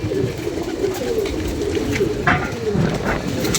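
Pigeons coo nearby in low, soft repeated calls over a steady hum of outdoor background noise.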